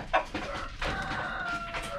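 Chickens cluck and call inside a coop converted from a travel trailer, several hens overlapping in a busy, close run of clucks with one louder squawk near the start.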